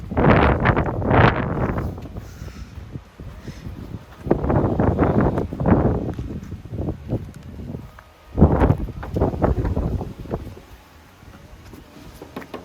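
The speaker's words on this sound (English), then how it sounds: "So windy." Strong gusts of wind buffet the microphone in rough, roaring surges, rising and falling several times with quieter lulls between.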